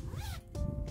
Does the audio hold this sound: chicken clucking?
no